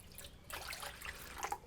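Water poured or trickling into a warming pot during firestarter candle making, faint splashing and dribbling that swells midway with a few small drips near the end, no voices.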